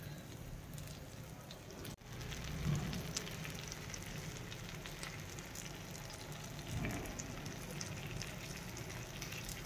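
Buttered pav bread toasting on a pan sizzles in a soft, steady crackle, faint and continuous with a couple of slightly louder bursts.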